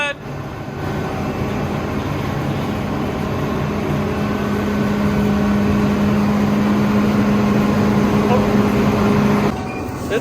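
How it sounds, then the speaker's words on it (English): Combine harvester engine running loud and steady as a constant droning rumble, heard from up close underneath the machine. "It's loud under here with that combine engine going."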